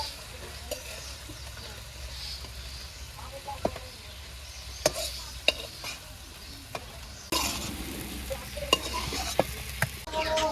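Eggplant slices frying in oil in a pan while cooking in a village kitchen, a steady low sizzle with scattered clinks and scrapes of stirring, growing a little louder and busier toward the end.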